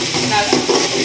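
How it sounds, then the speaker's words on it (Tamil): Masala for chicken biryani sautés in a pan with a brief, loud, close sizzle that stays fairly steady over about a second. "நல்லா வதக்கிக்கலாம்."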